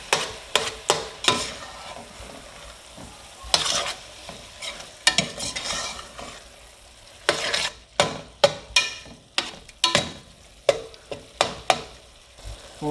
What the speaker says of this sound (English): we're going to add our tomatoes. We'll give it another stir.